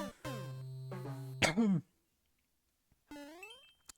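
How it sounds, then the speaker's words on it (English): Two or three sharp throaty coughs in quick succession, a little distant, followed by a pause and then a short burst of voice or another harsh cough. "me coughing that far away from my mic"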